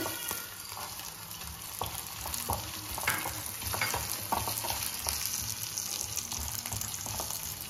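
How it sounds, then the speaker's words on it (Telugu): Roasted gram dal fries in a hot pan with a steady, close sizzle throughout, punctuated by light scraping and stirring clicks. "ఈ పప్పు పెద్ద వేగక్కర్లేదు, ఇలా వేయగానే అలా వేగిపోతుంది."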